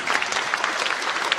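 Brief burst of audience applause at a church regional presbytery assembly as a candidate is introduced, dense steady clapping from a moderate crowd.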